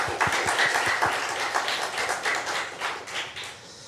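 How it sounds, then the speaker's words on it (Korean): A church congregation at a Korean Sunday worship service applauds, a dense burst of clapping that starts strong with a few sharp nearby claps and gradually thins out. "그 하나님께 영광의 박수 한번 올려드리겠습니다"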